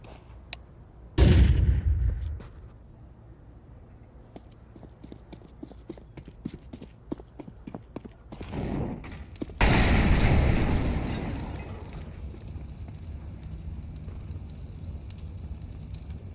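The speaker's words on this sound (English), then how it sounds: "Let's throw the grenade." A grenade thrown in Counter-Strike 2 goes off in two heavy, booming detonations several seconds apart, the second one rumbling and echoing as it fades. Quiet footsteps and clicks from the game are heard between them.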